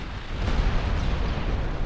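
Rumbling 4.2-inch secondary naval gunfire from warships in Ultimate Admiral Dreadnoughts, a dense, booming barrage of overlapping distant blasts running steadily throughout.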